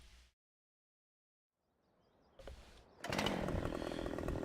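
A Husqvarna chainsaw in the Farming Simulator 17 video game, set in a forestry area, follows a short burst and a quiet gap with a brief rising noise, then starts into a loud steady buzzing whine.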